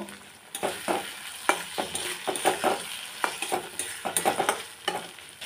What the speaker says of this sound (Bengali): এখন যে আলুটা ভেজে রেখেছি আমি দিয়ে দেব।